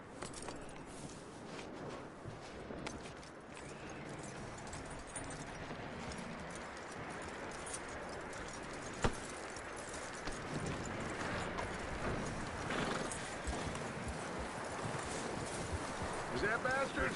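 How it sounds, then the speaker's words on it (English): Horse hooves clip-clop steadily through the Red Dead Redemption 2 video game, a continuous, moderately loud trot mixed with game ambience and occasional voices. "That looks like a decent horse."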